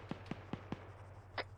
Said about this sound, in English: I'm hearing gunfire from Adam